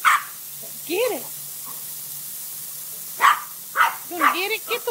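A brindle dog named Brindle barks and yips in short excited bursts while being sprayed with a garden hose outdoors in the sun, with several sharp barks clustered near the end and people talking nearby.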